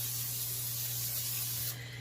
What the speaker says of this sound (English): spray the tops of these with my cooking olive oil spray